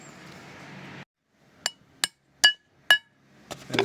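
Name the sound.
hammering out an old pilot bearing, Subaru EJ257 engine build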